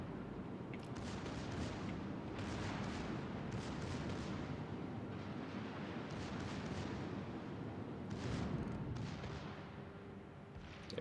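Naval battle video game action: a dense, rumbling barrage of booming gunfire and explosions from warships, continuous and fairly loud, with a few sharper blasts standing out and a torpedo hit among them, no voices over it.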